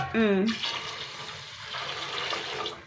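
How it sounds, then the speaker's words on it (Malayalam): Half a litre of water pours and splashes into a pan of milk and roasted vermicelli for a few seconds after a short spoken phrase, settling into a soft bubbling hiss. "ഇതൊരു അര ലിറ്റർ വെള്ളം"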